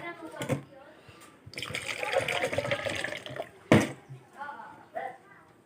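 Water poured while cooking corn: splashing, running water in bursts, with a loud pour in the middle and sharp splashes after, while people talk nearby.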